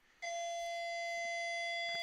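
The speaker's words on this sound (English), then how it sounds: "Sorry for the bells ringing." A doorbell-like bell chime rings out suddenly and loudly, then holds a bright, sustained metallic tone that rings on without fading, with no one speaking.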